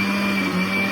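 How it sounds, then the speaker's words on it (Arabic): A kitchen blender whirs steadily, blending sugar, oil and other batter ingredients in a short, loud, constant motor hum with a bright whine. "نضربهم في الخلاط بقى"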